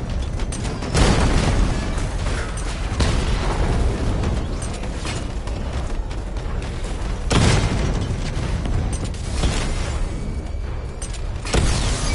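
Batman: Arkham Knight missile barrage explosions rumble continuously, with heavy booms and sharp blasts recurring at irregular intervals over a constant roar of mechanical noise.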